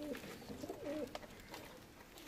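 Desi pigeons in a loft coo softly in a few low, rolling calls. A light thump sounds in the middle.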